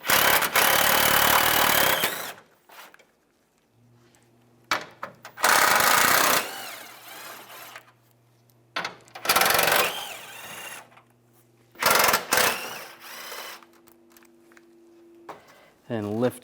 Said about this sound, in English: Now take the bolts out on top.